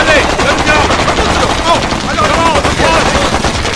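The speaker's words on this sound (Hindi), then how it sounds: "गोलियां चलाते रहो।" Loud, dense machine-gun fire from an action battle scene in the film Skyscraper, dubbed into Hindi. It runs as rapid, continuous bursts with no pauses, layered over chaotic background noise.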